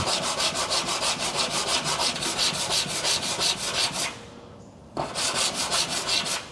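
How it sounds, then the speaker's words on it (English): A hand file scraping a raised spot off a 1970 Chevelle steel body panel, with steady rhythmic back-and-forth rasping strokes, close and loud, a short pause near the end, then more strokes. "I'm going to file that off."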